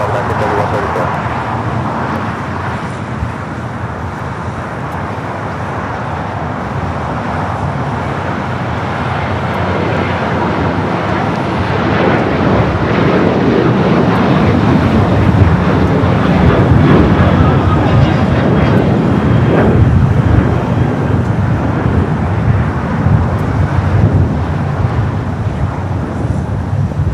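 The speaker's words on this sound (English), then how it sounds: "That flight taking off and heading to Vegas." An airliner takes off from runway 25 right at LAX bound for Vegas, a loud, broad jet roar that swells and holds steady with wind buffeting the microphone.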